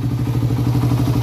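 Rotary Raider 150 motorcycle engine running after a push start, a close, loud, rapid low-pitched putter with a steady, even firing rhythm.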